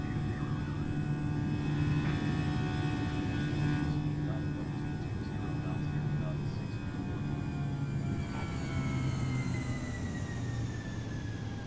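An Airbus A320 in Air Canada livery flies in Microsoft Flight Simulator on Xbox, its jet engines producing a continuous steady hum and drone with shifting whining tones, while a voice talks over it.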